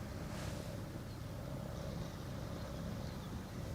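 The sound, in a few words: small boat passing on the Westerschelde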